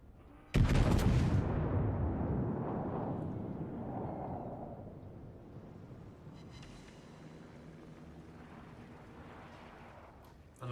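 Secondary battery guns on the French battleship Republique firing in World of Warships, heard as a loud burst of booming blasts at the start followed by a sustained rumbling roar of continued gunfire and explosions that slowly fades.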